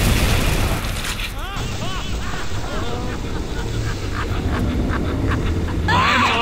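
Explosions in the Bioshock video game boom and burst repeatedly through a dense, loud game mix, with other game effects layered over the rumble.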